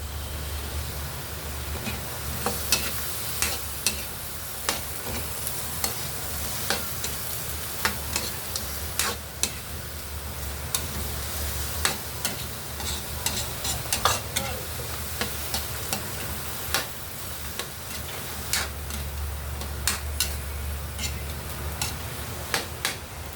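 Soy sauce and oyster sauce are stir-fried in a pan, giving a continuous close sizzle broken by frequent sharp ticks and scrapes of a spatula against the pan, with a low hum underneath.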